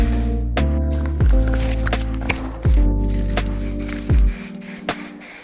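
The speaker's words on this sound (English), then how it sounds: "next I spray on some matte varnish to protect the wood against any moisture" Short hissing bursts from a spray can, a few seconds apart, heard over steady background music.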